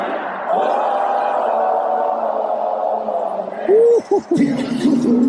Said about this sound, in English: Do you guys hear the crowd?